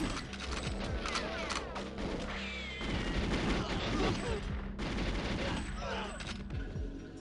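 Rapid bursts of gunfire and shotgun blasts from the GoldenEye video game in randomizer mode crackle in dense volleys with mechanical clicks, a continuous game soundtrack running underneath.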